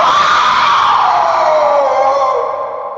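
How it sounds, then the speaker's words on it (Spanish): A terrified human scream, loud and sustained at full intensity for about three seconds with a slowly falling pitch, tapering off slightly at the end, heard alone without talk. "Finalmente un grito aterrado salió de su garganta"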